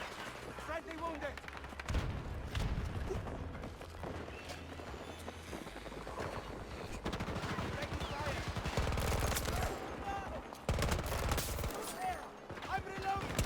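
Gunfire in the World War II video game Hell Let Loose, with dense rifle and machine gun shots and distant explosions over continuous battle noise. Voices talk at times under the fighting.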